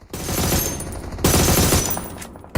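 Automatic gunfire in the PUBG Mobile video game, dense rattling bursts in two long loud volleys with a brief break between and a sharp burst at the end.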